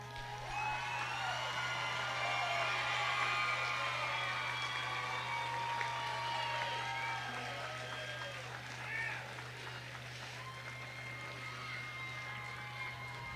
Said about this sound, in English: show them your appreciation and applaud them